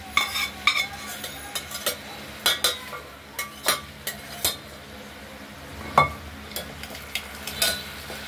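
A spoon scrapes and clinks repeatedly in a pan as mung dal is stirred with spices fried with dried red chillies, bay leaf and five-spice tempering. Sharp, fairly regular strokes sound over a faint sizzle.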